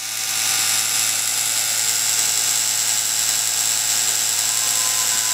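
A terrarium rain system pump sprays water across the back of a tank, giving a steady, continuous high-pitched whine with hiss that stays at an even level throughout.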